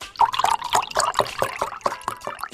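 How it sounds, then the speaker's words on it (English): Orange juice pours into a glass in a short, close, bubbly stream of trickling and gurgling liquid, with no other sound. "The OJ being poured."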